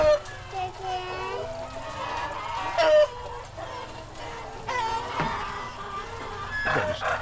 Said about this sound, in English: Look at all the roosters, Tony.